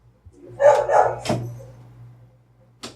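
A pet dog gives a couple of close barks or yips indoors, followed by a quieter single yelp after a pause, with a steady low hum underneath.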